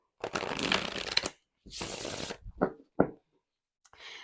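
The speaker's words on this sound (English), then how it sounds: "Shuffles like a dream." Several bursts of rapid shuffling of an oracle card deck, a riffle followed by shorter flicks and snaps, close and crisp with brief pauses between.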